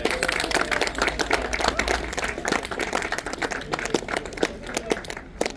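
Audience at a Leicestershire emergency service demonstration clapping for several seconds, a dense patter of many hands that stays fairly even throughout.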